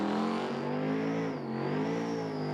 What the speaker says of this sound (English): Get those revs up.